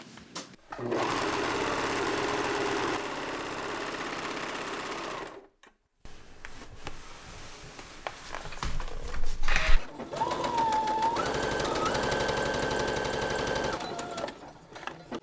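Sewing machine finishing the raw bottom edge of a hem: close, loud continuous mechanical whirring stitching runs, stopping briefly then restarting, with a fast rattling needle rhythm and a short rising motor tone near the end.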